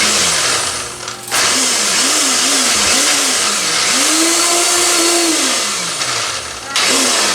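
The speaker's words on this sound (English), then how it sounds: "We don't have the food processor, and we're trying to do it in a blender." A kitchen blender whirs loudly as it grinds a shrimp burger mixture in place of a food processor. The motor pitch rises and falls in repeated surges, then holds steady before stopping briefly and restarting, with voices talking over it.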